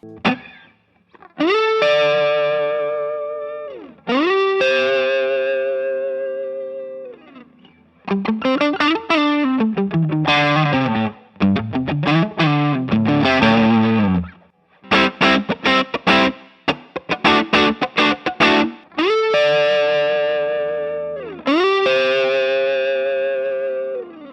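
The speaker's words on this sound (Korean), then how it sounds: "그 다음 TS7 한번 들어볼게요" An electric guitar played through an Ibanez TS7 Tube Screamer overdrive pedal rings out in sustained, gritty chords and quick riffs, loud and close, with pauses between phrases and no talking over it.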